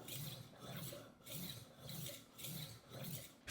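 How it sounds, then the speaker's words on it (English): A knife is honed on the honing side of a Horl 2 rolling sharpener. A steady run of about six rhythmic rasping strokes sounds close and moderately quiet, each pass a grinding swell with a short pause between. "start honing on the honing side of the Horl roller"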